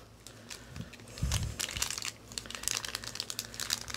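Packaging on a Lost Kitties toy box being cut open, giving close crinkling, crunching plastic and cardboard sounds with a few heavier crunches, no voices.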